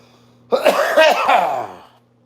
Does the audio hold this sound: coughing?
yes